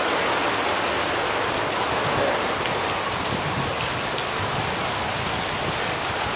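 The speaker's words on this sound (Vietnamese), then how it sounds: "Vì thấy mưa Cần Thơ" Heavy rain pours steadily in Can Tho, Vietnam, by a riverside café at an old ferry landing, a dense unbroken hiss of falling water and pattering drops that fills the whole stretch without pause.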